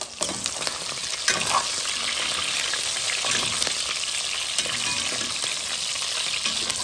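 Smoked pork fries in very hot oil with a dense, steady crackling sizzle that holds loud and even throughout, with occasional pops and stirring clatter.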